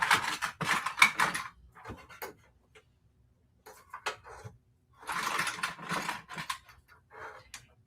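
A sewing machine stitches a fabric handbag in short, close bursts of rapid clattering, stopping and starting with quiet pauses between runs.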